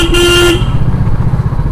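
A motorcycle horn gives one short, loud blast of about half a second, close by in traffic near a pet market, then the engine runs on with a low rumble.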